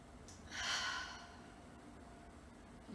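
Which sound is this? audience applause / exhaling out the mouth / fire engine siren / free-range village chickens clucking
exhaling out the mouth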